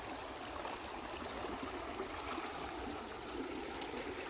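A salmon stream runs downhill over rocks, giving a soft, steady rushing and trickling of flowing water, faint and unbroken, with no talking.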